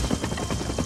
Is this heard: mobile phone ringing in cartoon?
no